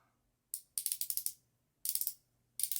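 A teeth whitening gel pen is twisted up in four quick bursts of sharp ratcheting clicks, close and distinct, separated by short silences.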